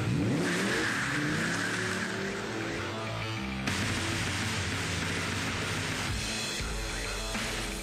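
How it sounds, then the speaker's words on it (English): A prototype Ford Cobra concept V10 all-aluminum engine revs and roars loudly and continuously, with its pitch shifting as the throttle changes. "Inside, we've got our very first prototype V10 all-aluminum engine."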